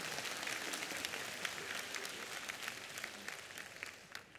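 Soft, fairly distant clapping comes from a stand-up comedy audience in a theatre. The scattered hand claps blend into an even wash that fades slightly toward the end, with no talk.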